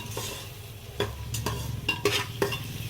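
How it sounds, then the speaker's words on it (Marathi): Masala chutney sautés in oil for soybean rice, a low continuous sizzle punctuated by several quick spatula scrapes and stirs against the pan. "थोडा वेळ छान असं तेलात परतून घ्यायचं, म्हणजे टेस्ट येतो त्याला।"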